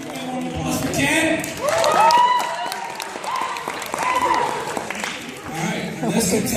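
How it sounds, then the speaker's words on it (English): Pageant audience applauding a contestant, bursts of clapping with some chuckles, while a presenter talks over it. "Applause for Ken."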